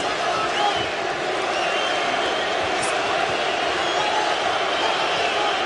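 A large boxing crowd at a Vitali Klitschko bout against Albert Sosnowski, a steady, dense arena murmur filling the hall without distinct cheers.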